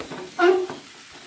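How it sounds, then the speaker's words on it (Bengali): Fried potatoes tossed into hot spice masala and oil for aloo dum, a short burst of sizzling and stirring, close and fairly loud for about a quarter second, then fading to a faint hiss. "আলুটাও মশলার সাথে ভালো করে কষিয়ে নেব।"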